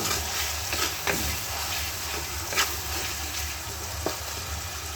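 Soy sauce gently stirred in a hot frying pan, a steady sizzling hiss broken by a few soft scrapes and clicks of the spatula, close and moderately loud.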